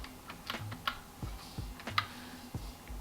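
Keys on a computer keyboard are tapped in a quiet room, a faint, irregular series of soft clicks and thumps with short pauses between them.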